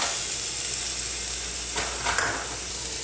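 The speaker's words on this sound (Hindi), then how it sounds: "घी हमारा गरम हो गया, इसमें हम लहसुन डाल लेंगे।" Garlic sizzles in hot ghee in a kadai, a steady, close, crackling fry hiss with a couple of brief stirring scrapes and no talk.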